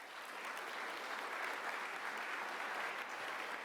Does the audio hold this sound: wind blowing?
no